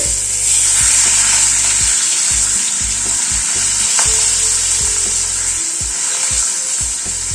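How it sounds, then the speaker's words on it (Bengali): Fish sizzles loudly in hot mustard oil in a wok on a gas stove after being turned over, a dense continuous frying hiss with scattered pops and crackles, nobody speaking. "মাছটা উল্টে দিচ্ছি।"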